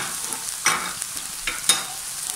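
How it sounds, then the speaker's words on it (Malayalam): Sliced onions frying in hot coconut oil, with a steady soft sizzle and two or three louder scraping strokes as they are stirred in the pan, close and alone. "ഞാൻ അത് ഇതിലോട്ട് വെളിച്ചെണ്ണയിലേക്ക് ഇട്ടു ചെറുതായിട്ട് ഒന്ന്"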